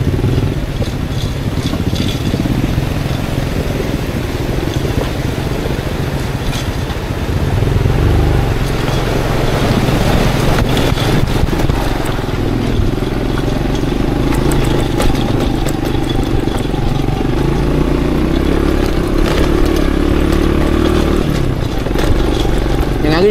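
An Aveta Ranger Max Explorer motorcycle engine runs continuously and loudly, with a steady low throb and some rattling clatter, while someone talks over it.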